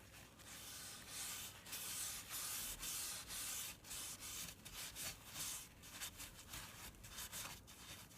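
Dark ebony wood stain being rubbed by hand onto a gold picture frame, a steady close scratchy rubbing with repeated strokes, alone without talk.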